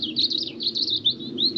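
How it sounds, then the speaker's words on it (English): Birds sing outdoors beside a canal towpath, a quick run of bright chirps and twittering calls over a soft, low background rumble, moderately near and with no talking. "Take a look at this place and listen to the birds."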